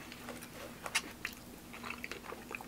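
Close chewing of Panda Express kung pao chicken with peanuts, a few soft crunchy bites and moist chews spread unevenly through a quiet stretch with no talk.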